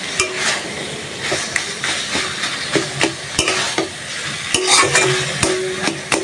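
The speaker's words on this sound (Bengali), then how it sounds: "আস্তে আস্তে সুন্দর মতনে ভাজা ভাজা করে নেব মশলার সাথে।" Banana stem frying with spices in a pan, a steady sizzle broken by frequent sharp scrapes and knocks of a spatula stirring, fairly close and loud with no voices.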